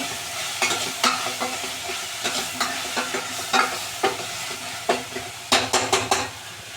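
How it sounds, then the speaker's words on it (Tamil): Onion, tomato and ginger-garlic paste sauté in a pan with a soft background sizzle, broken by repeated scraping and clinking of a spoon stirring against the metal at an uneven rhythm. "வெங்காயம் தக்காளி நல்லா வதங்கினோடனே ஒரு ஸ்பூன் அளவுக்கு இஞ்சி பூண்டு பேஸ்ட் போட்டுக்கிறோம்"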